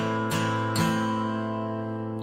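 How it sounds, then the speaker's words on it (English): Acoustic guitar strummed in a 6/8 pattern for House of the Rising Sun: two distinct strokes ring out across sustained chord tones that carry on after the second strum, played alone at moderate volume. "you could also play it with a really nice strum pattern that sounds like this"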